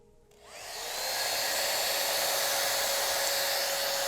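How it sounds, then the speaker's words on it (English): A handheld air dryer starts up and settles into a loud, steady, continuous whoosh of blowing air, heard close and alone with no talking. "And the force of this air dryer"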